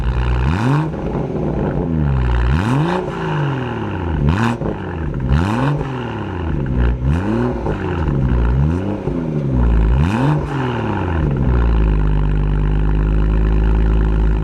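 A BMW M240i with a Quicksilver valved exhaust and back box bypass revs repeatedly while stationary, loud rising and falling blips in a steady rhythm, then settles into a deep rumbling idle, close and without talk.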